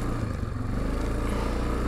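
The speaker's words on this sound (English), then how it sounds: "Not using any brakes, just slowing it down with the engine slow" An off-road vehicle engine-brakes down a snowy trail, its low, steady engine rumble droning close and loud without rising or revving, with a faint clatter over it.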